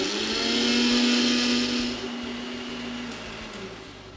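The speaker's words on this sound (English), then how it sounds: "now I'm going to grind this into a smooth paste." A mixer grinder whirs at high speed, blending a green paste for hariyali aloo tikka, a loud, steady motor whine with a drone that drops slightly midway and then continues.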